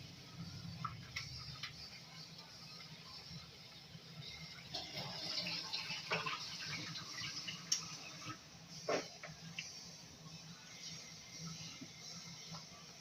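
Vegetables such as broccoli rinsed under a running kitchen tap, with steady, fairly soft water flow and a few clicks and splashes from handling, no talking.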